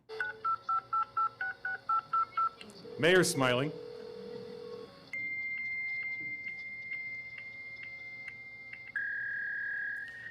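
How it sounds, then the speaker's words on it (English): Telephone touch-tone dialing beeps in a quick evenly spaced series, then a brief voice and a burst of warbling modem handshake tones, followed by steady repeated synchronization beeps and a held tone, fairly faint throughout. "The digits dialed are tones, and then tones are used to exchange basic synchronization information"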